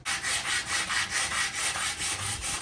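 Hand sanding of a damaged Mustang widebody body panel with 180 grit sandpaper, a steady rhythmic back-and-forth rasping with about eight even strokes, close and loud with no talk.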